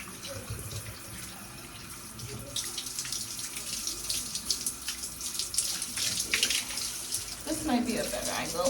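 Water runs steadily from a tap while conditioner is rinsed out of hair, a close hissing flow with splashing and shifting spatter as the hair is twisted and handled.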